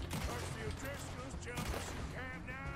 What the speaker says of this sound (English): Okay, I don't know if that dude had a Gatling gun then